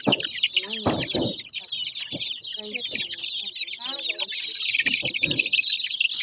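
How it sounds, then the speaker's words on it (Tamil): Turkey poults and chicken chicks peep in a dense, continuous high chatter, with scattered lower clucks and knocks underneath. "இது வான்கோழி."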